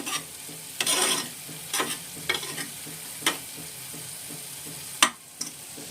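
Onions sizzle in hot oil in a pan while being stirred, a steady frying hiss broken by scraping stirs at irregular intervals, close and with no talk.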